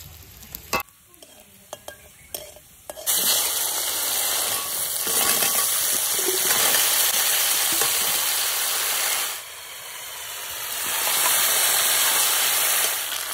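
Bay leaf, dried chilli and cumin hit hot oil left from frying fish. After a few quiet seconds of small clatters, a loud, close, continuous sizzle surges and holds, dipping briefly before swelling again.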